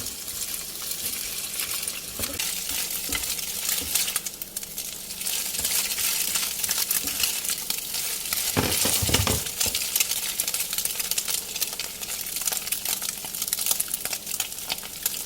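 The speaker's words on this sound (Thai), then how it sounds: "แล้วก็เดี๋ยวเราจะคั่วไข่นะคะ" Egg being stir-fried in a wok for Thai drunken noodles with pork, a steady sizzle with scraping and clinking of a spatula against metal, close and continuous with no talking.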